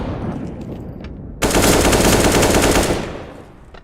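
Rapid gunfire from a USP pistol in a competitive esports shooter match, a dense burst of close, loud shots lasting about a second and a half before fading.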